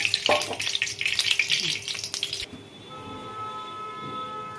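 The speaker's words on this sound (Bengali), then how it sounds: "এক এক করে ভেজে নেব।" Soybean koftas fry in white oil, a bright crackling sizzle up close for the first half, then it drops off, leaving a quieter steady hum with faint tones.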